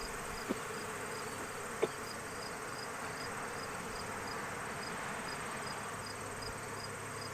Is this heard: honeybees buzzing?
yes